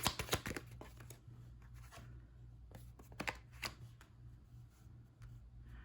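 Tarot cards being shuffled by hand, a papery riffling and sliding in short bursts, loudest at the start and again midway, close and quiet over a low steady hum with no talking.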